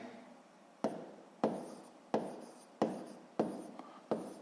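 Pen strokes on paper while writing out a sixth-grade math answer, heard as six or seven separate scratching bursts at a steady pace, close and fairly quiet.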